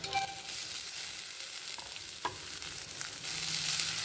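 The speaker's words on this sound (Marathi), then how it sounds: "आता आपण कांदा टाकतोय।" Onion sizzles in hot oil in a pan with garlic and coconut. The steady close frying hiss runs the whole time, with a few brief stirring clicks and no talking.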